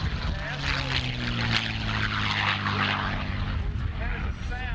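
A vintage propeller-driven warbird roars past in a high-speed pass at a 1996 air show, a loud sustained engine drone with a falling pitch as it sweeps by, a voice talking over it.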